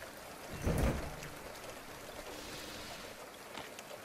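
Steady rain falls in the video game The Final Station, a soft continuous hiss with a dull thud early on, and no voices.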